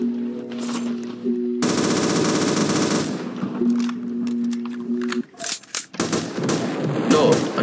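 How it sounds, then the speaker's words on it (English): Rapid bursts of automatic gunfire in the Roblox video game, loud and sustained for several seconds, then broken into shorter shots and clatter. "Someone's shooting there."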